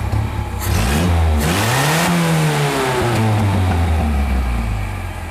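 A car engine revving after repair: loud, close rises and falls in engine pitch as the throttle is blipped, then settling back toward a steady idle with no talk.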